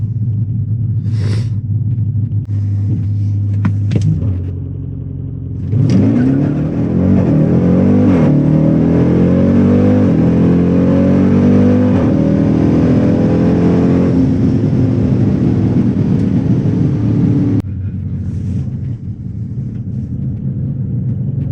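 A 2018 Jeep Grand Cherokee Trackhawk launching on a quarter-mile run: loud idle rumble, then a hard, sustained roar of acceleration through rising engine pitch for about twelve seconds before easing back, heard close and alone.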